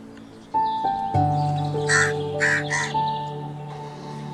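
A crow gives a series of harsh caws, loud and near, with several rasping calls in quick succession over a sustained tonal hum.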